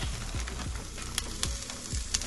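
Hash browns sizzling on top of onions in a pan aboard a boat cabin, a close, steady crackling fry with faint scraping stirs underneath.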